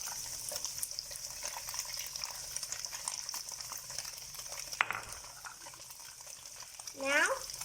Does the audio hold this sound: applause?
no